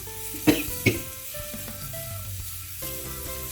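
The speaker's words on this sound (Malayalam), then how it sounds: "നമുക്ക് ഈ മുട്ട ഇങ്ങനെ പാനിനകത്ത് ഉരുട്ടിയിട്ട് മുട്ട ഇതിൽ പുരട്ടിയെടുക്കണം." Boiled eggs being rolled through a salt, chili and turmeric spice mix in a hot pan give a soft, steady sizzle, with two sharper stirring clatters early on and a quiet tonal background.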